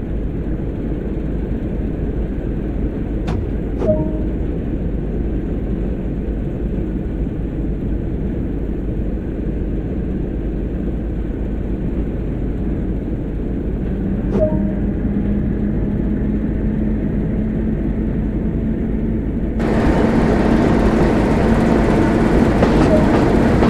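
Electric train locomotive in Train Sim World starting off with the throttle notched up, a steady loud rumble and motor hum that swells near the end, with occasional faint clicks.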